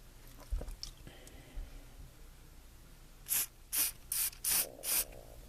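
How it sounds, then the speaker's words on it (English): Balsol lubricant sprayed onto parts of a Colt 1851 Navy revolver during reassembly: five short, close hissing spritzes in a steady run after a few faint handling knocks. "spritz of Balsol."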